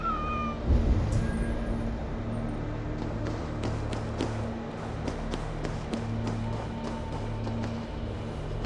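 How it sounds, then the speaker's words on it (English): Several cats meow repeatedly in Assassin's Creed Valhalla, clear and fairly close, over a steady ambient game backdrop with scattered taps. "If these are Freya's cats, they must be leading to her."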